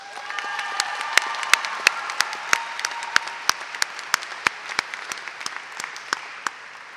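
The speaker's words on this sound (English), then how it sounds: "Please give them a round of applause." An audience at a girls' school graduation ceremony applauds for the graduating students, a sustained wash of clapping with a few crisp, louder claps standing out close by throughout.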